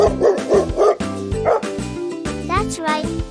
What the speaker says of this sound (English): the dog makes the woof woof sound